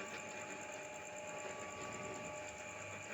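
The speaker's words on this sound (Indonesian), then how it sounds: "Kita pakai gilingan daging biasa, belum bisa pakai alat yang kencang." Manual hand-cranked meat grinder working through chicken scraps such as feet and heads, a steady continuous mechanical grinding drone with a faint rhythmic pulse, fairly quiet and unbroken throughout.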